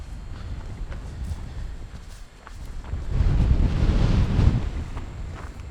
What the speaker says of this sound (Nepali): लेफ्टबाट राइट पुगाइदिँदो रहेछ हावाले